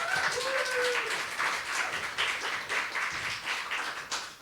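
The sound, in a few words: audience applause for the presenter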